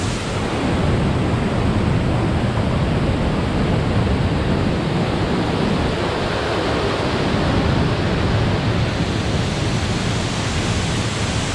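Laurel Creek Falls in North Carolina pours in a steady, dense roar of rushing water, close and loud with no letup and no voices.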